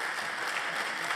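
Audience clapping at a university convocation ceremony, a dense steady wash of applause filling the hall without pause, fairly loud and continuous.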